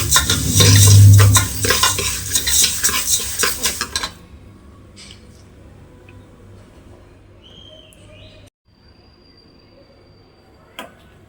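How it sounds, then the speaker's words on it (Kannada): Horse gram dry-roasts in a pan while being stirred briskly, producing loud, close rattling and scraping for about four seconds before settling into a faint, quiet sizzle. "ಇದು ಚೆನ್ನಾಗಿ ಹುರ್ಕೊಳ್ತೀನಿ ಕೆಂಪಾಳ ಹುರ್ಕೋಬೇಕಿದು ಕಾಳನ್ನ"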